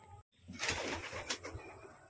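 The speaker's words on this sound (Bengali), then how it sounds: "বিভিন্ন রকমের পায়রা আছে" Pigeons, including Madrasi and Desi Giribaj breeds, coo softly and repeatedly at close range in a loft against a steady background hum, with no voices.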